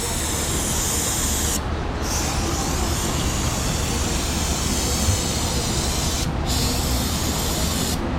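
Spray steadily rinses down a Volkswagen Jetta 2.5 oil pan, a loud, continuous hissing wash that cuts out briefly twice.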